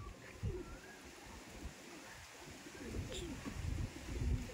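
A Madras pigeon coos softly and low, rising and falling quietly over a faint hiss of background noise.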